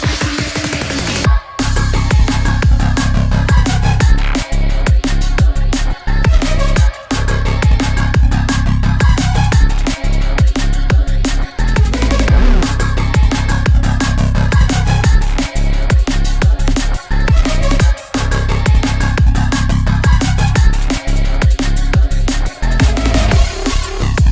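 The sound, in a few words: drum and bass song drop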